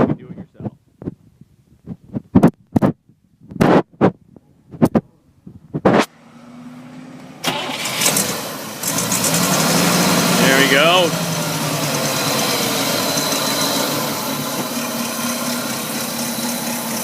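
Big engine of a 1962 Cadillac Series 62 convertible with a basically stock exhaust starting up and settling into a loud, steady idle close by, after some clicks and knocks and a brief spoken remark.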